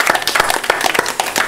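Audience at a talk show clapping for a guest, dense rapid hand claps in a short steady burst, close and fairly loud.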